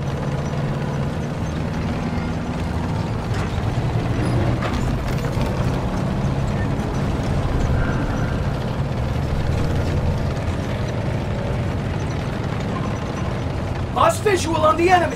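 A Panzer tank in Call of Duty: WWII rumbles with a low, continuous engine drone and clanking mechanical grinding, steady and loud throughout, with some voices speaking over the din.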